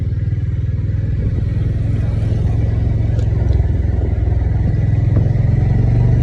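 Honda CB350 RS motorcycle on the move, its mid-pitched single-cylinder engine thrumming steadily and loudly with a rhythmic pulse, wind and road noise around it.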